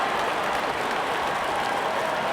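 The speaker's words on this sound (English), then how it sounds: "And there comes the celebration," Virtual stadium crowd in a cricket video game celebrating a wicket, a continuous wash of applause and cheering at moderate level with no clear individual voices.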